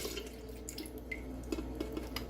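Quiet orange juice pouring and dripping into a blender, close by, with soft splashes and a low hum behind.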